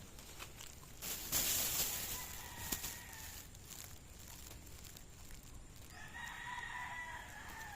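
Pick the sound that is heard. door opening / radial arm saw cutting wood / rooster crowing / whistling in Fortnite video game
rooster crowing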